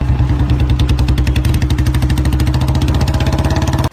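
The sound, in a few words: Royal Enfield Bullet motorcycle engine thumping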